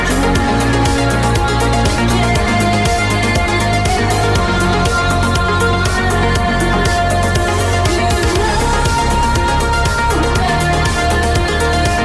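A synthwave track from an album plays as dense, loud full-band music with a steady driving beat, layered synths and sustained melodic lines throughout, with no talking over it.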